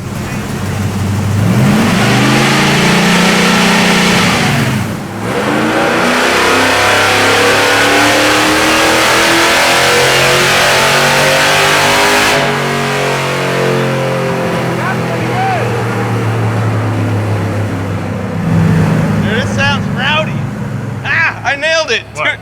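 A car engine being tuned for drag racing on a frozen lake, loud and close, revving up and down in long sweeping pulls with a brief dip midway, while voices talk over it.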